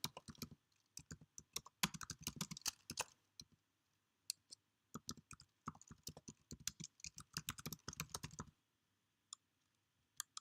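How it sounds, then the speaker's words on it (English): Someone types a book title on a computer keyboard, producing quick, faint bursts of clicking keystrokes in irregular runs separated by short pauses, with a few last isolated taps. "So I'll type that in."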